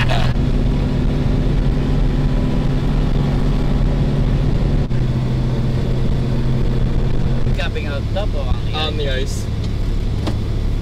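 Kubota side-by-side utility vehicle engine driving on a frozen lake, a loud continuous close drone that drops in pitch partway through, with voices talking over it.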